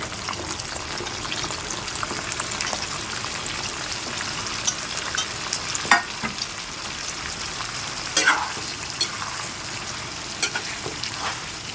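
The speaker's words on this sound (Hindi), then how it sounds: "अब इसके अंदर हम ये चिकन डाल देंगे, सारे चिकन में इसमें डाल देंगे।" Chicken frying in a pot for chicken biryani gives a loud, continuous sizzle, broken by a few sharp clanks of stirring and no voices.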